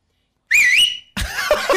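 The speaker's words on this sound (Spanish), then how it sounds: "silba así un poquito. A ver, escuchá." A person whistles loudly without using their fingers, in a stadium-chant style. A wavering, sliding tone runs for about half a second, then breaks into a second, rougher burst of whistling.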